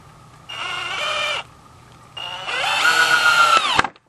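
A power drill bores pilot holes in wood while building a basic headboard: two close, steady whining bursts, each climbing slightly in pitch before cutting off, with a short pause between them.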